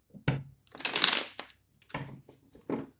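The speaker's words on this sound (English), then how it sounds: "One last shuffle" Tarot cards riffle and slap together in a few quick shuffling bursts, close and crisp, with short gaps between.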